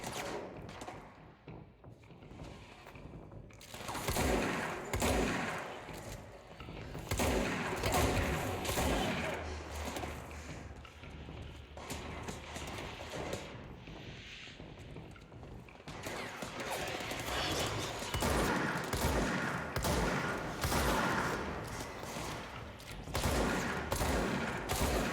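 Gunfire and an exploding barrel in the video game Control, dense bursts of shots and crashing blasts that run almost continuously, loud and close with brief quieter stretches between volleys.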